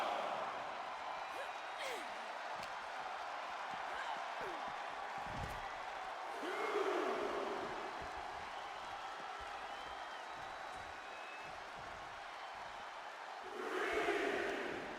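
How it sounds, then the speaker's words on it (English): A video-game wrestling arena crowd in WWE 2K25 roars steadily throughout a women's match, with louder swells of cheering at intervals over the constant din. "The crowd is fully behind Io, and she knows it."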